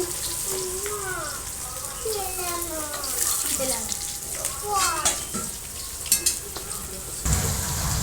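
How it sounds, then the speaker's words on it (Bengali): Rohu fish fries in oil with a loud, continuous close sizzle, while rising and falling vocal-like tones pass over it and a few clattering knocks come near the end. "বাবা মাছ দেখো বন্ধুরা মাছটা ফ্রাই হয়ে এসেছে এবার তুলে নিচ্ছি"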